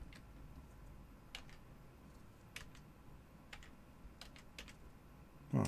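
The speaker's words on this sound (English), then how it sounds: "What the heck am I typing?" Fingers tap a computer keyboard in sparse, irregular bursts of light clicks, quiet and close, over a faint room hum, with a louder knock at the very end.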